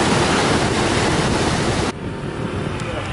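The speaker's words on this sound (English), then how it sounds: "I don't think that you can hear me because it's really windy" Strong wind roars and buffets the microphone over a steady surf-like wash at a beach in Bali, easing somewhat near the end. No voices.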